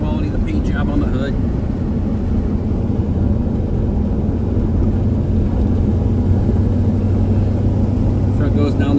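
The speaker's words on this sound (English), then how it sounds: "Truck goes down the road nice." A 1984 Chevrolet K10 short-bed pickup truck drives down the road, its engine and road noise producing a steady, loud rumble for the whole stretch.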